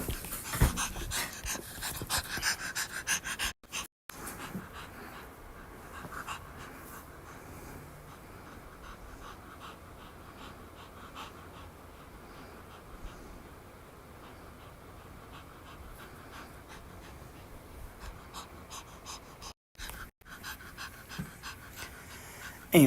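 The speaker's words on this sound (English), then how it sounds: "Anyways, the dog is finally up here." A dog pants quietly and steadily at close range, a soft continuous breathy rhythm broken by a couple of short gaps.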